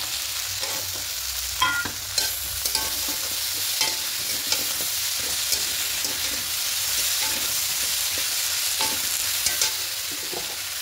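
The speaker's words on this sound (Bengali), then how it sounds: "একটু ভেজে নেব।" Ingredients for a spinach curry frying in a pan, a steady loud sizzle with frequent clinks and scrapes of stirring throughout.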